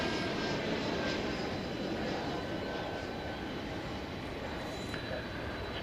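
An airliner bound for Paris at DFW Airport gives a steady, even jet roar that holds at constant loudness from start to finish, with no distinct peaks.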